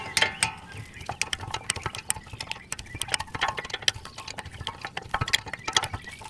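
Close, rapid, irregular clicking from a 13mm socket ratchet undoing a front brake caliper bolt on a D3, a steady run of sharp ticks with no talk.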